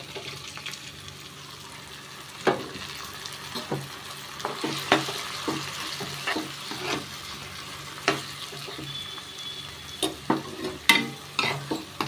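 Soaked moong dal lands in a sizzling tempering, frying with a steady crackle while a spoon stirs and scrapes the pan in uneven bursts, close by, with no voices.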